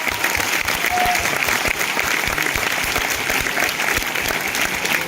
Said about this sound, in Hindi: तो आप अपने लिए एक जोरदार ताली बजाएं।